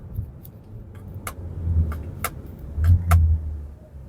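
2025 Kia Carnival SX Hybrid minivan pulling away hard from a standstill, a low engine drone building and swelling from inside the cabin, with a few light clicks and rattles on top.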